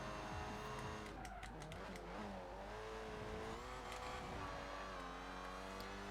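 A Citroen DS23 in Forza Horizon 4 drives with a steady engine drone that rises and falls through gear changes, with tire squeal and skidding noises mixed in, heard fairly faintly.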